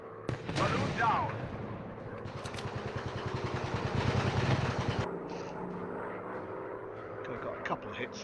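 Rapid machine gun bursts rattle over droning WWI fighter plane engines in a War Planes virtual reality dogfight, a dense stuttering volley building for several seconds before cutting off, followed by quieter engine noise and scattered clicks.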